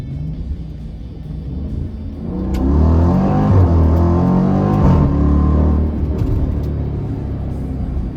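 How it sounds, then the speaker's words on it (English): A Jeep Grand Cherokee SRT engine revs up into a deep, throaty exhaust rumble, holds loud for a few seconds, then settles back to a lower idle growl. "this SRT sounds so good right now, and the exhaust note is absolutely perfect"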